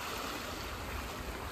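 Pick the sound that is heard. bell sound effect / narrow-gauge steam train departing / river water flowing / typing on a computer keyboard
river water flowing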